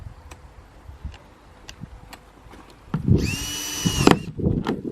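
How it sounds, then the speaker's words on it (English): After scattered light taps and ticks, a power drill boring holes in a plastic bin kicks in for about a second of steady whine, followed by clunking handling noises nearby. "We'll drill these holes."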